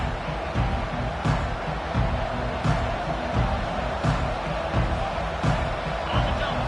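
Steady roar of a large stadium crowd cheering at a college football game, Iowa Hawkeyes hosting JMU, a dense wash of noise throughout with a play-by-play announcer talking over it.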